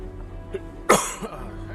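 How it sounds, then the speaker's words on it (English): A single sharp cough from a man, close and fairly loud, over a low steady background hum, with a smaller throat sound before it and another after. "Man, I'm sorry I'm coughing so much today."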